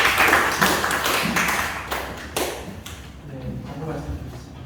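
A church youth-service congregation claps in welcome, a burst of applause that thins out into a few scattered claps and taps while people speak over it.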